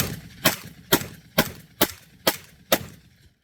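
A Fostech Origin 12 short-barrelled shotgun fires six loud, sharp shots in an even, rapid rhythm about half a second apart, each crack decaying quickly, with no talk.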